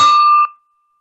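A single bright bell chime rings out clearly during an online meeting, holding for about half a second before fading, with a thin tone lingering afterward.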